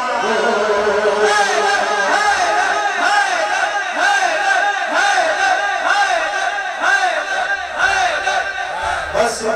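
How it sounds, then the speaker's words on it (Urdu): A large crowd at a religious gathering chants a rhythmic repeated slogan in unison, loud and sustained throughout, voices rising and falling in regular waves. "سارے حسینی دونوں ہاتھ اٹھا کر حیدر حیدر کے نعرے لگائیں"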